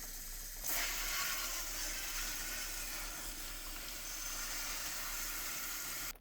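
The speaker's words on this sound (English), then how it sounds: "I still have a little bit of gunk back there that I'm going to rinse out really quick" Rushing water rinses leftover gunk out of a Frigidaire countertop ice maker, a steady close hiss of running water that holds from start to finish and cuts off at the end.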